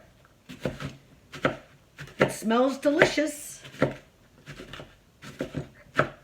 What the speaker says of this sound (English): So I'm chopping my apples and my walnuts.